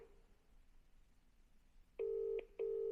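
Faint room quiet gives way to loud telephone tones: one long electronic beep, a brief break, then another, as a call is placed to check in with a kitchen wrapping customer.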